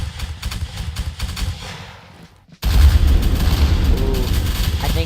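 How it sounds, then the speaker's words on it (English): Heavy booming cannon blasts in a video game battle, with rumbling explosions; a brief quiet gap is followed by a dense burst of loud battle fire. "And Lamer focuses cannon fire on one piece, and it takes out a piece of line infantry of Rael."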